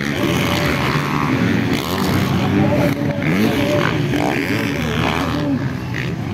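Motocross bikes racing in an intermediate production heat at a Maramag, Bukidnon motocross competition, engines droning loudly and steadily with revving pitch swings, while an excited announcer calls the race over them.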